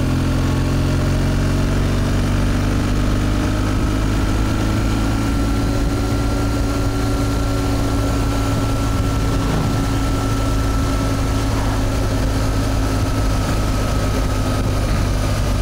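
A steady BMW R1200GS motorbike engine drone runs throughout, low and continuous with a constant hum, cruising at even speed with wind noise.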